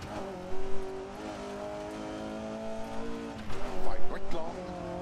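A rally racing video game car drifts and counter-steers, driven with a Thrustmaster T300 wheel, its engine droning in steady tones that shift pitch with throttle and bursts of tire skid near the end, heard alone.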